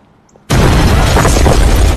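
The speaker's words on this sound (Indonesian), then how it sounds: "tiba-tiba saja mobil itu meledak tepat di depan mereka" A car blows up in a film: a sudden, loud explosion bursts in after a quiet moment and roars as a sustained, rumbling blast that fills the rest of the clip.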